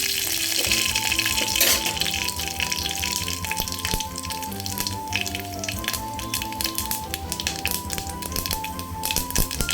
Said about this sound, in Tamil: நல்லெண்ணெய் தான் விட்ருக்கேன் இது பாருங்கள் கடுகு வெந்தயம் போட்டுக்கிறேன் பொரியட்டும்